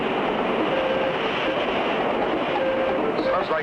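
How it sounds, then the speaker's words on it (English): A cartoon's steady, loud roar of open water rushing over huge boulders in dangerous rapids, a dense continuous wash of noise that holds level throughout with no talk. "Sounds like open water, rushing over huge boulders."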